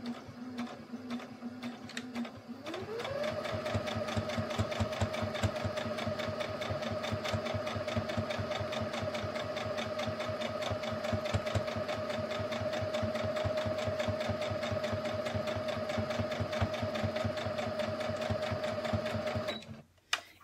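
A sewing machine runs steadily in a continuous chain stitch on mitten fabric, a loud rapid mechanical whirr that starts after a brief lower hum and holds evenly for nearly twenty seconds before stopping.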